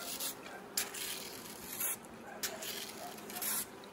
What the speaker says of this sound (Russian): Вот у меня, значит, распылитель с эвкалиптом.